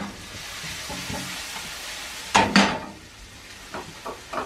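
Onions fry in a pan with a low, steady sizzle, broken by a couple of louder clatters and scrapes of a utensil or pan around the middle.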